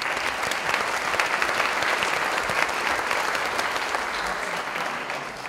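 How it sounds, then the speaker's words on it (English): Applause from a festival audience at a panel discussion, sustained, dense clapping that stays loud and steady throughout with no break. "I want you to applaud for yourselves for making that happen"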